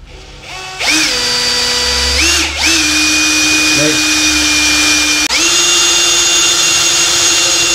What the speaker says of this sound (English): So now that we have the pilot hole done, I'll go ahead and drill through it.